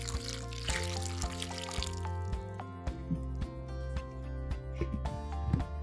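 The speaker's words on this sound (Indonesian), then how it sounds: "Tuang air sikit." A little water is poured into a blender holding chopped spice ingredients, including coriander seeds, for a chicken marinade. A brief splashing trickle comes first, then fades beneath steady background music.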